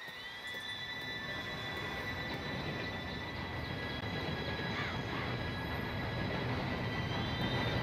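A video game train in Red Dead Redemption 2 rumbles steadily close by as it approaches, with a continuous low roar and faint high metallic squeals over the noise, no voices.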